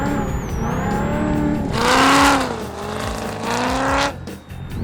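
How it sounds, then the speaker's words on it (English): A muscle car with a big horsepower V8 mounted at the back revs and accelerates, the loud engine note rising and falling in surges before dropping away near the end. "I feel like I'm driving something out of Terminator with a big horsepower V8 hanging off the back of it"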